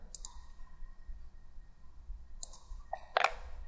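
A few sharp, quiet computer mouse clicks sound in CATIA over low room hum, two separate single clicks followed by a quick cluster near the end.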